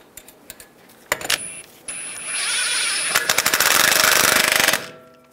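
A power impact tool snugs the axle nut onto a new front wheel bearing hub on a 2011-2018 Ram 1500, starting with a few clicks, then loud, close rattling hammering bursts that build into a sustained run.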